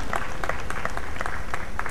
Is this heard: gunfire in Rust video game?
no